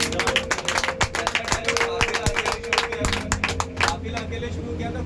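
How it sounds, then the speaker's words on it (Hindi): A church Sunday gathering breaks into a round of audience applause, dense overlapping clapping that continues steadily at moderate loudness with some crowd murmur underneath. "कैसे ताली बजा दो भाई।"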